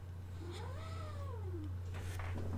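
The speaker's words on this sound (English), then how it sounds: "That was my cat, bruh." A cat gives a single drawn-out meow that rises and falls, heard close over a steady low electrical hum, with faint rustling afterward.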